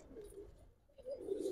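A Giribaz pigeon from Old Dhaka coos close by, low soft throaty notes that fade, pause briefly and then return louder.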